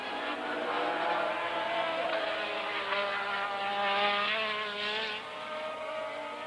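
Formula 1 race cars at the 1984 Brazilian Grand Prix, engines droning continuously at a steady high pitch, moderately loud and somewhat distant, with no voices over the sound.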